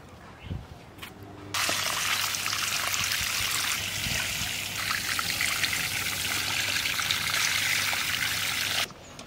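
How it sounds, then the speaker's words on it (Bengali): Tap water runs steadily over a young jackfruit as it is rinsed clean of its sticky sap, a close, continuous splashing trickle lasting several seconds after a brief quieter start, then cutting off abruptly. "কল থেকে ভালো করে ধুয়ে নিয়ে আসি"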